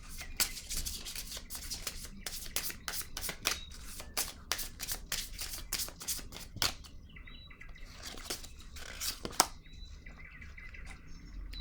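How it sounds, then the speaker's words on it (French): Tarot cards being shuffled and drawn, giving a run of crisp riffling flicks and slaps close by, then a pause, with faint bird chirps in the background. "Je vais piger une carte ici."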